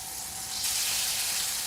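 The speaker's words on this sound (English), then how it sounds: "And then I've got the hot pan here. Obviously, you can see it smoking. Now. Sizzling." Steak hits a hot smoking pan to build a crust, a steady hissing sizzle that jumps louder partway through and carries on, with a faint tonal hum underneath and no talk.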